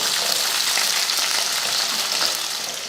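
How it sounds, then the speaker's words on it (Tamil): Small shallots and a few garlic cloves sauté in a hot pan, giving a steady, loud, close sizzle with faint stirring scrapes throughout, no voices. "இது வெங்காயத்தை நல்லா வதக்கிடுவோம்"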